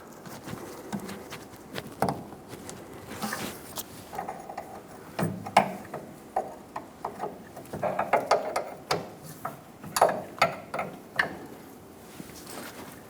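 Wrench turning a brake hose fitting on a 2007-2014 Chevrolet Silverado 2500 HD rear center brake line, heard as close, irregular metallic clicks and small mechanical ticks spread across the clip with no talking.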